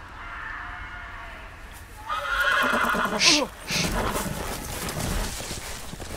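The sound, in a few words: horse neighing in the Game of Thrones video game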